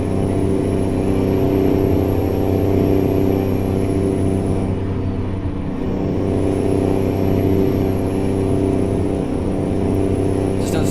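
Steady low truck engine drone from American Truck Simulator, a simulated truck running at constant speed with a rough, strained tone, continuous and loud throughout with no talk.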